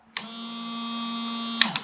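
A small electric water pump fitted in a camperized Kia Sorento 4x4 runs with a steady whining hum, starting abruptly and then cutting off after about a second and a half, followed by a couple of clicks.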